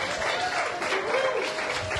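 An audience applauding a chef at a dinner event, a dense, steady burst of clapping that carries evenly through the moment.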